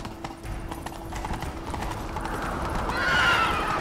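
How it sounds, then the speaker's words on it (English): Steady clip-clop of a galloping horse in The Witcher 3: Wild Hunt over rumbling background noise, with a whinny rising near the end. "Grab a horse, we'll chase him down."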